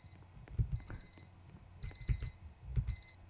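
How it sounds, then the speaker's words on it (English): In the Roblox game Welcome to Bloxburg, an alarm clock rings in three short bursts of bright repeated beeps, while heavy thumping and clicking sounds run underneath. "Go turn off my alarm, dude."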